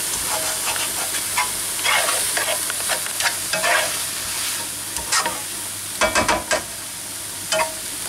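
Pad thai stir-fried in a pot instead of a wok, a steady close sizzle and hiss with scraping stirs and clatters throughout, louder stirring bursts near the end.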